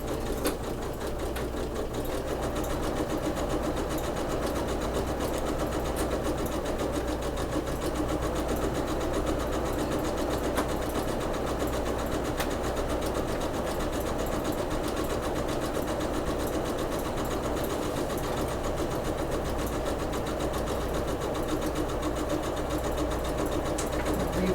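A sewing machine stitches mesh fabric for a quilted beach bag with a short stitch length and backstitching, its motor humming in a continuous, close, even whir throughout with no pauses.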